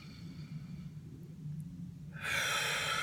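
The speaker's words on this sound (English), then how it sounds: "Breathing." A slow, deep breath taken as a breathing exercise for panic attacks: a low, steady hum gives way to a loud, rushing airflow in the last second, close to the microphone, with no talking.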